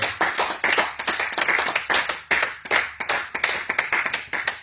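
A church congregation at a night of prayer applauds to acclaim the Lord, a dense, continuous burst of many hands clapping close by for several seconds.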